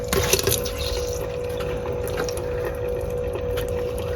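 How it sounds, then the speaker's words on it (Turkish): Mains water runs from a tap inside a caravan connected to the supply, with no pump running, producing a steady, moderate rush of flowing water for the whole stretch. "Normal suyu açacağım şimdi."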